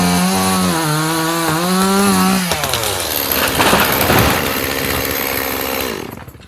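A big chainsaw roars steadily at high revs while cutting down a tree, its pitch sagging and rising under load, then breaks into a rough, grinding bite through the wood before cutting out abruptly at the end.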